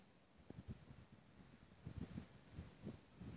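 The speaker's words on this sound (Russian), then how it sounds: "Ветер очень большой" Strong wind buffets the microphone beside an ice hole in a frozen lake, low rumbling gusts surging and swelling in uneven bursts, loud and close with no talk.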